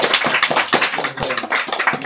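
Small audience at an Indonesian book discussion claps after a talk on architecture and memory, close, crisp individual claps in a lively irregular rhythm throughout.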